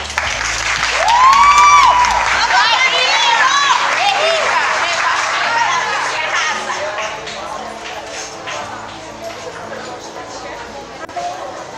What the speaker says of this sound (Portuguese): Cadê a salva de palmas?